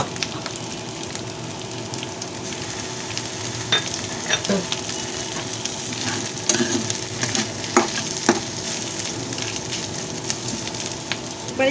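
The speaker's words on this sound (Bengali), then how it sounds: "এখন আমি মিনিট খানেক ধরে একটু শুটকিটাকে ভেজে নেব।" Dried fish (shutki) fries in a pan with a steady, crackling sizzle and occasional stirring scrapes, a continuous, fairly close hiss with no talking.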